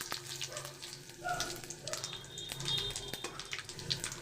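Bay leaf and whole cumin sizzling in hot oil in a kadai, a quiet crackling fizz with small spatters and light clatter, fairly faint and close.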